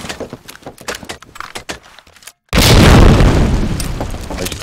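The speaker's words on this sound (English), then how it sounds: "Wow, dat nade." A grenade explodes in Medal of Honor: Allied Assault: a sudden loud boom after quick clicks and footsteps, followed by a long rumbling tail that slowly fades.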